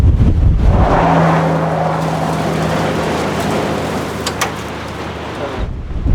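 Strong wind roars across a desert valley, a loud, continuous rushing buffet with a low rumble underneath that eases slightly toward the end, and no voices.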